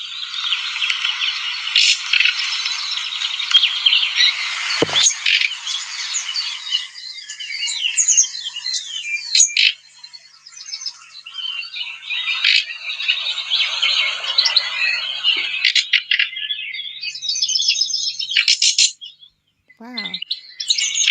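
A male nightingale sings loud, dense phrases near the microphone, running from bright whistles into rapid piping and harsh insect-like croaking notes, with brief pauses between bursts.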